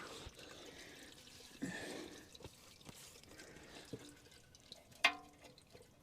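Transmission fluid drains from an automatic gearbox on a Holden HK, heard as faint, quiet dripping and a light trickle with a few sharper drops falling into a container.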